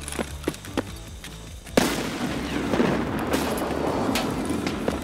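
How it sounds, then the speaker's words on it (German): A grenade goes off in the video game Escape from Tarkov: a sharp, loud blast, then a rolling rumble and crackle that fills the rest of the moment, with a few faint game clicks and thumps before it. "Ich mach eine Granate."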